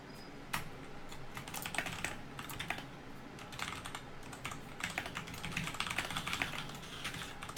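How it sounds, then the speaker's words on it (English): Someone types on a loud computer keyboard close up, a continuous run of sharp key clicks in uneven bursts with brief pauses, heard alone without speech. "Sorry about my loud keyboard."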